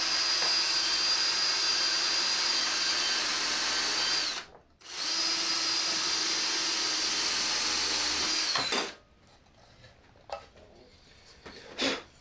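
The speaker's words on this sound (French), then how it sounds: "on va venir maintenant sécuriser ça proprement avec des vis" A power drill drives screws into a wooden box joint jig in two long, steady, close bursts with a brief pause between them. After the second burst stops it falls quiet, broken only by faint scattered knocks.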